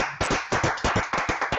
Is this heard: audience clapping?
yes